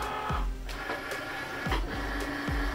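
A fabric cutting machine with a rotary blade loads canvas material on a fabric mat, giving a loud steady mechanical whir with repeated motor sweeps and clicks.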